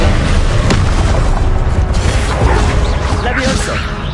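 Confringo explosive spell blasts in Hogwarts Legacy fire in a continuous, loud, dense barrage of booms and crackling impacts mixed with mechanical clatter, and a voice calls out spells over the top.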